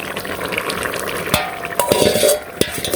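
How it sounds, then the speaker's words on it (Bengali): A fish curry being stirred in a cooking pot, with soft scraping and clinking of a utensil against the metal over a low sizzle, a few sharper knocks standing out. "একটু নাড়াচাড়াটা দিয়ে নিই, এই যে মিশলো সুন্দর তরকারির সাথে"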